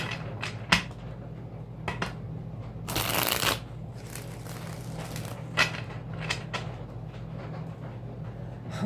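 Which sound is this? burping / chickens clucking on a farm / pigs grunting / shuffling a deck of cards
shuffling a deck of cards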